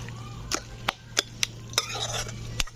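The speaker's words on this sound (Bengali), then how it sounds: "একটু খুন্তি কিংবা চামচ দিয়ে এইভাবে একটু ঘেঁটে দিলে দেখবে কি সুন্দরভাবে ঘেঁটে যাবে।" Cooked pumpkin is mashed with a spatula or spoon in a pan, giving several sharp, separate scrapes and taps of the utensil against metal over a low, steady hum, with no voices.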